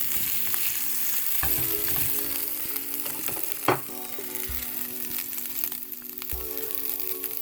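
A taco with cheese sizzles steadily in a pan, folded and held against the corner, with a continuous close frying hiss broken by occasional clinks and shuffling of the spatula.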